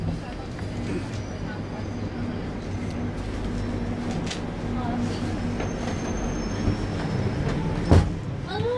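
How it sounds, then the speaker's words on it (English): London Underground tube train carriage ride with a steady loud rumble of wheels on track and a brief squeal near the end, with voices and announcements mixed into the din. "Getting on the tube train."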